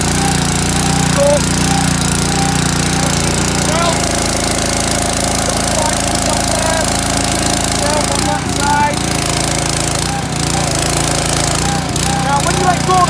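Honda GX200 6.5 hp electric-start petrol engine driving a 150 bar pressure washer, a loud steady close-up engine drone with a slight pitch drop partway through, someone talking over it.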